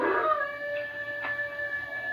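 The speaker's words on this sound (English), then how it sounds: "what's the matter with that hound dog of yourn? Doing a powerful lot of howling tonight, ain't he?" A hound dog howls on a night by a sandy country road, one long sustained wavering howl holding steady for about two seconds at moderate distance, with a few faint yips rising through it.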